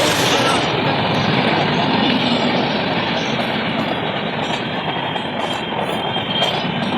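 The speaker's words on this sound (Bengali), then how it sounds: "বাপরে, ট্রেন তো শেষই হচ্ছে না।" A very long train rolls past close by, a loud continuous rumble and clatter of wheels on rails that holds steady for the whole stretch.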